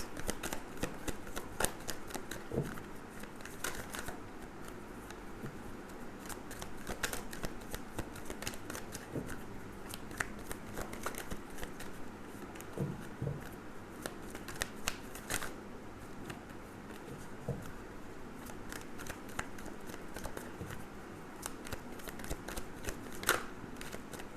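Tarot cards are shuffled by hand in a quiet room, a long run of rapid riffling and flicking bursts with soft slaps, close and fairly quiet, with no talking.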